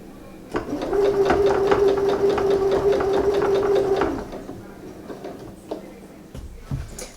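A sewing machine stitches a custom bag, running in a steady, fast mechanical whir for about three seconds before stopping, followed by a few quiet handling noises.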